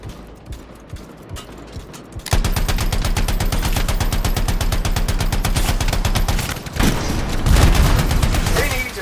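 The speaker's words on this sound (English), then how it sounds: "They need to stop shooting me out of the air." Rapid sustained automatic gunfire in the video game Anthem, a loud steady rattle of evenly spaced shots running for several seconds, ending in heavier blasts and impacts.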